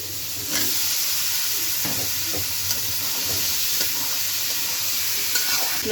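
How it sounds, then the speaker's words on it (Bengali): Small boiled potatoes with turmeric and chili powder fry in a pan, a steady loud sizzle and hiss broken by occasional stirring scrapes. "কষে আলু দিয়ে কষাই নিছি"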